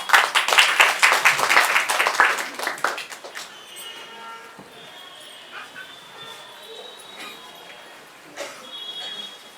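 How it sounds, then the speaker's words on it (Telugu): A church audience at a women's Christmas gathering in Medchal claps in a dense burst of applause that thins out after a couple of seconds, leaving scattered claps and quiet room noise. "అందరూ చప్పట్లు కొట్టారు."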